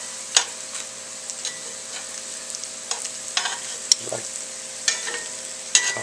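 Homemade tortilla chips fry in hot oil, a soft steady sizzle broken by scattered sharp clicks and taps of stirring, close and fairly quiet with no talking.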